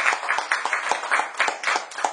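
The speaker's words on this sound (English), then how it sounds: "Please give a big round of applause." A small audience applauds in a brisk, uneven patter of hand claps at moderate volume, with no voices over it.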